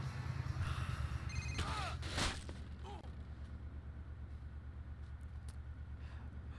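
A phone rings in the GTA Chinatown Wars video game, a short electronic ringtone burst over a constant motorbike engine drone that carries on after the ring stops.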